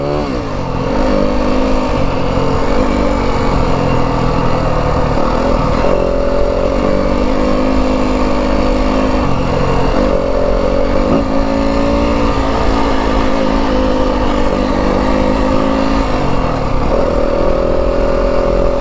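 A 2025 Yamaha WR 250F dirt bike engine drones loudly and continuously while riding in third gear at moderate, mid-range revs, the pitch rising and dipping slightly with throttle changes.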